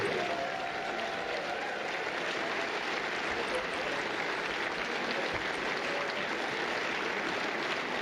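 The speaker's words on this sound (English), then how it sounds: "a round of applause for both finalists, please" Sustained applause from a large crowd at the final of a seniors snooker championship, steady and dense throughout, with no pauses or voices standing out.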